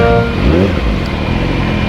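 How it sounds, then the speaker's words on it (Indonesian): Congested road traffic on a hot day, heard from a rider on a Yamaha R6 superbike, with a steady loud rumble of idling engines and a brief horn toot near the start. "Waduh, sampai macet kayak gini"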